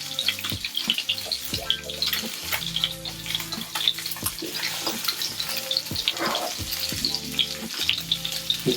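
Steelhead trout fillet frying in a hot pan, a continuous close sizzle and crackle with scattered pops and some low clattering, no talking.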